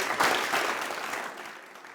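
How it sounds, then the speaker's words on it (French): Studio audience applause for an artist on a television show, a brief burst of dense clapping that peaks early and then gradually fades. "Merci de l'applaudir."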